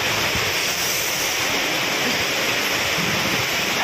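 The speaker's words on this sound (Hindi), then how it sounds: "हाँ वर्षा देखो" Heavy rain pouring onto a balcony, a dense, continuous hiss and patter at steady loud level with no breaks and no voices.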